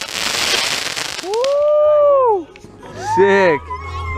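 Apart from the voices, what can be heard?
bottle rocket firework launching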